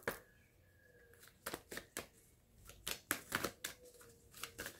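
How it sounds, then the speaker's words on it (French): Oracle cards are shuffled by hand before one is drawn, giving soft riffling and slapping flutters in uneven bursts, quiet and close in an otherwise still room. "Je vais tirer une carte avec l'oracle de la triade."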